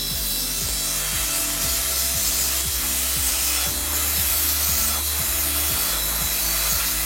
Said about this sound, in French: je vais pouvoir commencer à poncer l'ongle, de manière à le désépaissir